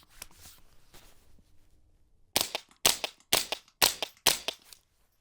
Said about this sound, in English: I kind of hear the action cycling more than the actual report of the firearm here